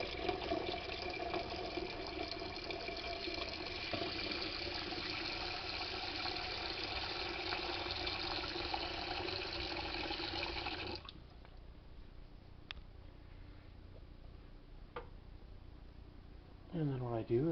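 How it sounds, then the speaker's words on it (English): Cold tap water runs steadily into a pan over eggs for about eleven seconds, a loud, close rushing pour that then stops, leaving a quiet kitchen with a few small clinks. "run obviously cold water, and I fill the water up about an inch to an inch and a half over the top of the egg"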